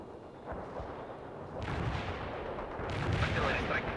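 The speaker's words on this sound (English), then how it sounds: "Artillery strike is inbound." An artillery strike in the World in Conflict strategy game lands as rumbling, booming impacts and surges of noise that swell over several seconds, with faint voices in the background.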